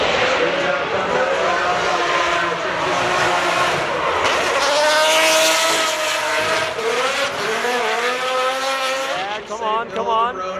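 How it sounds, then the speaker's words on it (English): A V12 twin-supercharged Aston Martin race car does donuts on a track, its engine screaming loud and high as revs rise and fall in long sweeps, with squealing tires and a few voices faintly underneath. "Just doing donuts. It sounds insane over there. It's just screaming."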